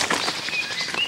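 A great grey owl beats its wings in a rapid series of soft, breathy flaps, close and fairly loud over a brief moment.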